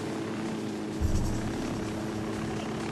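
A helicopter in Ghost Recon Wildlands Narco Road DLC drones steadily with a whirring rotor, close and constant, swelling briefly near the middle.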